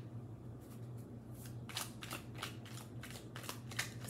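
Tarot cards shuffled and drawn during a Gemini reading, a run of quick papery riffles and flicks with a louder burst near the end, close and clear over a steady low hum, no talking.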